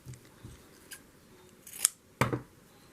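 Scissors snip through thread while trimming a boho tassel, a few soft cuts followed by two sharp, close snips near the end, with no talk.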